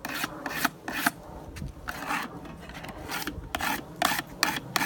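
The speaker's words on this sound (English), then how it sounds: "Right now I'm just ripping at the steel, trying to make the tungsten carbide corner cut" A tungsten carbide corner scrapes hard across the steel of a food chopper and cheese grater, giving loud rasping strokes close up in an uneven back-and-forth rhythm.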